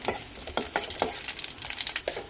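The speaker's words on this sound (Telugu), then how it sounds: "అందులో తాలింపు సామాన్లు వేసుకున్నాను, అంటే ఆవాలు, మినపప్పు, నూనె, కరివేపాకు వేసుకున్నాను." Tempering spices (mustard seeds, urad dal, curry leaves, dried red chillies) crackle and sizzle in hot oil, with a few sharp spatters and scraping stirs close by; no one speaks.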